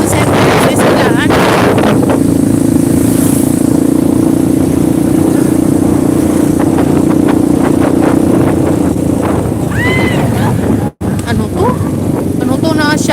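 Strong wind buffets the microphone outdoors near St. Teresa school in a Philippine city, a loud continuous low rumble lasting throughout with a steady hum and scattered voices underneath.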